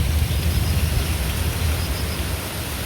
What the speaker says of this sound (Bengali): আবার এই যে সকালবেলা থেকে ঝড়ি শুরু হয়েছে, ডাকাডাকি